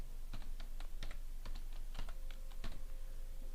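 Typing on a computer keyboard in Microsoft Word 2007 gives a near, uneven run of sharp key clicks over a steady low background hum, with no speech.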